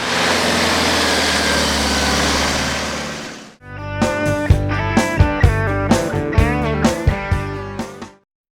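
A 4WD splashes through the first muddy puddle of the day on a drive to Craigs Hut, giving a loud, steady rush of engine and water for about three seconds before it cuts off and music takes over.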